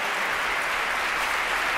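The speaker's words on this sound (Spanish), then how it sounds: "¡Un fuerte aplauso!" Sustained audience applause at an educational concert, a dense, steady wash of clapping at full strength that holds evenly for the whole stretch with no voices over it.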